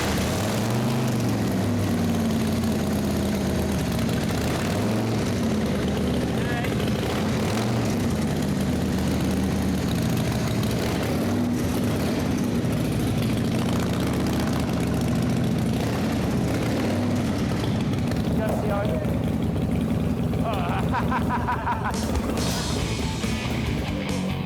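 A custom-built motorcycle engine runs steadily after its first start, a loud continuous low rumble with a dense exhaust drone throughout and no talk over it.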